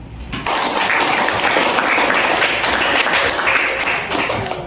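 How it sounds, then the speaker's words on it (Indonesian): A classroom group bursts into steady, dense applause that starts abruptly and holds at an even level for about four seconds before tapering slightly. "Aplaus."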